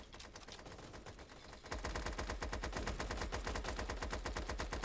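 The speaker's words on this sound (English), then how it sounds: "the minigun just never stops shooting" A minigun in a video game firing nonstop: a softer stretch of shooting gives way to a loud, rapid, unbroken stream of shots that continues to the end.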